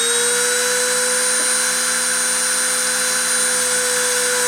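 A high-speed spindle turning at 30,000 RPM during a deposition run gives a steady, even high-pitched whine with a constant tone throughout, moderately loud and with no voices over it.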